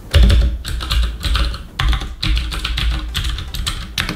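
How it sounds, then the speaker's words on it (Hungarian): Someone types on a Cherry MX Blue mechanical keyboard, producing dense, loud clicky keystrokes in quick irregular bursts separated by short pauses, close to the microphone. "Nézzük a Cherry MX kék billentyűzetet."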